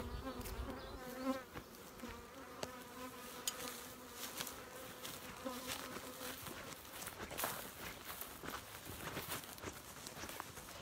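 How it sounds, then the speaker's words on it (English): Honey bees buzz steadily around a beekeeper outdoors, a dense, continuous insect drone with scattered louder passes close by, no talking. "showed you some bees, still got some angry ones buzzing around me"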